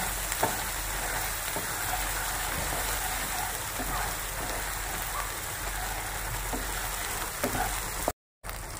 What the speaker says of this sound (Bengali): তো এবারে ভালো করে আমি মশলাটা কষিয়ে নেব